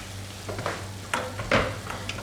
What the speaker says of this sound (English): So the frying is mainly to harden the exterior